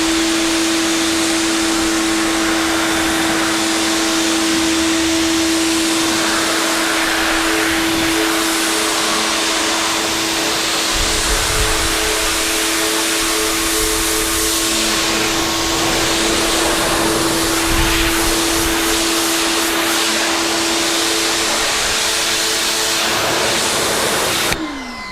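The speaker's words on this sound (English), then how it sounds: "So let's go ahead and give it a rinse." A pressure washer rinses a car with a loud, constant hiss and steady motor whine, unbroken for the full stretch and heard alone without speech.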